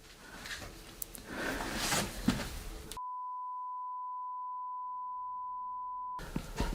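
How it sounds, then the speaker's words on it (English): A long, steady censor beep, a single unbroken pure tone lasting about three seconds, cutting abruptly into and out of surrounding talk and noise. "what could you possibly have said for a beep that long?"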